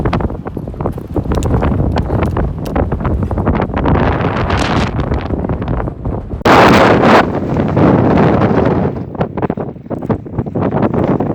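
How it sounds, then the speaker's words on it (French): Steady, loud wind in Iceland buffeting the microphone throughout, with a brief harder gust roaring across the middle. "pas de pluie mais un petit peu de vent"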